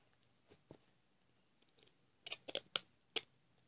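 Scissors snip through the nose of the piece being cut in a quiet room, a few faint clicks and then a cluster of four or five sharp, close snips, with no talking.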